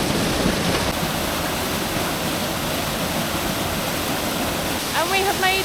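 A waterfall on a forest trail in Mindo roars as a loud, steady wash of falling water, with a brief voice near the end.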